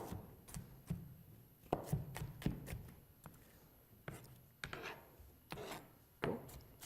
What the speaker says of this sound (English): Just kind of dice them down a little bit.